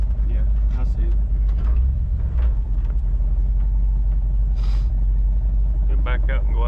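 A car with a freshly repaired Ford C6 transmission runs with a deep, steady engine rumble that holds throughout, heard up close beneath people talking.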